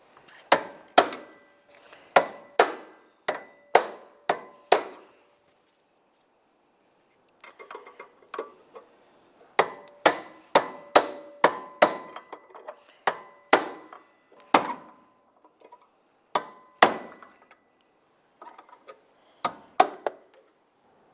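Metal hinge pin on a 2005-2010 Dodge Dakota front door driven out with an angled pry bar and hammer, sharp ringing metallic strikes in quick bursts of several blows separated by short pauses.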